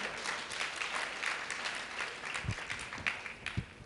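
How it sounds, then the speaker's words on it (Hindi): A crowd at a Jain festival celebrating Lord Adinath's birth and chariot procession in Bhatapara, Chhattisgarh, gives a soft, somewhat distant round of applause, with a few heavier thumps standing out near the end. "पुनः तालियां बजाई जाए"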